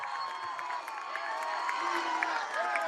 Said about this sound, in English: we got the school cheering them on, showing some love